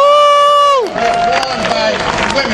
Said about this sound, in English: I would also ask you to give a round of applause for the folks that are part of our coalition and carrying the shirtwaist.